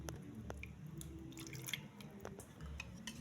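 Water trickles and drips softly into canned tomato paste in a container, close and quiet, with a low steady hum underneath.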